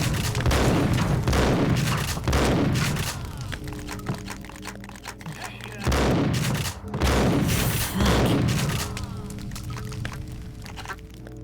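A shotgun fires repeatedly in the shooter game Max Payne, giving a series of loud booming blasts in two clusters with decaying tails between them.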